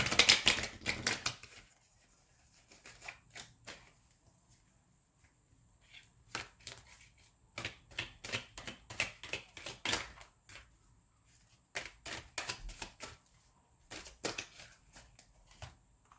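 Angel oracle cards being shuffled in repeated bursts of crisp, fluttering clicks, with quiet pauses between the shuffles and no talking.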